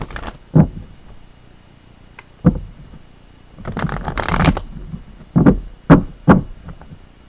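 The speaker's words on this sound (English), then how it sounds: "let's go ahead and pull your daily tarot card for today" Tarot cards being shuffled by hand in a few quick, crisp riffling bursts with quiet gaps and soft taps between them, close and fairly loud, with no voices.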